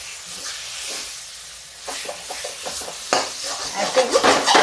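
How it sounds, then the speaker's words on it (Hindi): Unsoaked, unboiled red kidney beans (rajma) dry-roasting in a pan on the stove, with scraping stirring strokes that grow busier over a steady close sizzle and hiss. "ये मेरा राजमा जो है भून चुका है, ये देखिए।"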